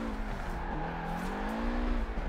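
Car engine in Forza Horizon 4 revving during street drifting on a racing wheel, a loud steady high-pitched drone that rises and bends in pitch, with no talking.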